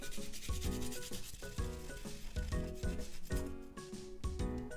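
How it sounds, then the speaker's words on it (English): Fresh ginger is rubbed against a grater in quick, regular rasping strokes, close and clear, with no talking. "Then using grater, I'm gonna grate ginger"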